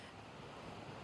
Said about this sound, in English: This episode, I'm also featuring the waves of Curacao.